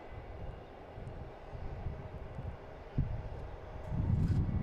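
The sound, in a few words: Etihad airliner coming in to land at Boston Logan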